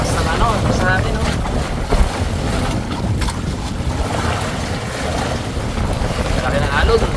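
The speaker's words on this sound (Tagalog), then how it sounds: "Sabi na ang alon, kalaki." A boat rides big waves at sea at night during high tide, with strong wind buffeting the microphone in a continuous rushing roar and water churning and slapping throughout, while a voice talks.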